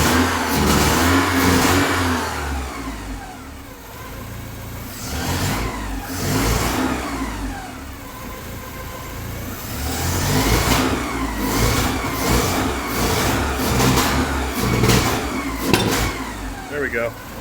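A Porsche 944 engine revs unevenly and stumbles as if about to choke out, with intake backfires among the throttle blips, close by, and a voice is heard at points.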